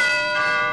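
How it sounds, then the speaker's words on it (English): A cartoon door chime rings at a grandmother's cottage, one bright bell-like tone with layered harmonic overtones that decays slowly over less than a second, loud and alone. "Okay, so he dingled the chimes."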